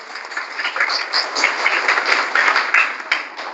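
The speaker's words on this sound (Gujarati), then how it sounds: "ત્યારે આપણે સૌ તેમનું તાળીઓથી સ્વાગત કરીએ" An audience at a community gathering serving a meal to blind people claps to welcome arriving guests, a dense, continuous patter of applause lasting several seconds without pause.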